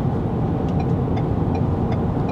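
A 2022 Ford Maverick First Edition cruising at highway speed while towing a trailer, with a steady, loud broadband road and engine drone that holds constant throughout, with no voices.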